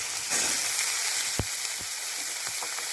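Eggplant pieces hiss and sizzle as they hit a hot pan of frying gima greens, a continuous crackling fry with a few sharp knocks and scrapes of a spatula, close and without talk.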